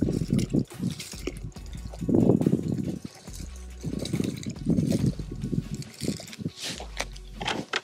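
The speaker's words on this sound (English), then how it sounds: "I'm gonna pour some potassium permanganate into the water." Potassium permanganate is poured into water for a large elephant toothpaste experiment, giving intermittent splashing, trickling and gurgling bursts with pauses between them, fairly close and moderately loud.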